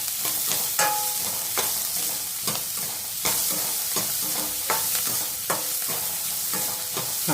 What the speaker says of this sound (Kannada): ಈರುಳ್ಳಿ ಸ್ವಲ್ಪ ಫ್ರೈ ಮಾಡ್ಕೊಳ್ಳೋಣ.